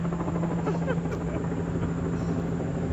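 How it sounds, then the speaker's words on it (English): A helicopter drones steadily overhead above Central Park, New York City, a constant low thrum at moderate distance with no other sounds standing out. "I feel like the helicopter's looking for me."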